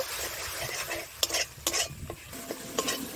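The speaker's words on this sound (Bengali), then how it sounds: "আর দিচ্ছি লঙ্কার গুঁড়ো, দিয়ে ভালো করে কষিয়ে নেব।" Fish masala with chili powder fries in a pan for Rupa patia fish, a steady sizzle running throughout while a spoon scrapes and stirs in several short bursts, close and moderately loud.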